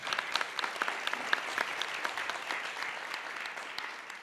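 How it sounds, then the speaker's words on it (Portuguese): A congress audience at a panel on diversity, equity and inclusion claps together in a brief, lively round of applause, with bright, crisp hand claps at moderate volume and no voices over them. "Por favor, uma salva de palmas."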